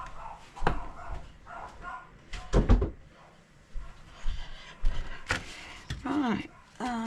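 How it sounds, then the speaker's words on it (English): A door is shut in a home workshop while dogs are about, giving a couple of short knocks and thumps between bursts of nearby talk and other small handling noises. "I'll just quickly shut the door."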